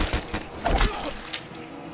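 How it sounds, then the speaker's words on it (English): A gun fires in a zombie shooter game as a short run of loud, close bangs and thuds, spaced unevenly across two seconds, with no talking. "Fire the gun!"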